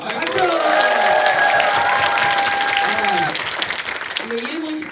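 Packed applause from a live talk-event audience in Yongin, with sustained whoops and cheering over the clapping. The crowd fades near the end while a voice starts to talk.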